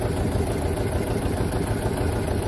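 A tractor engine idles nearby during equipment unloading, a steady low rumbling drone with constant vibration and no talking.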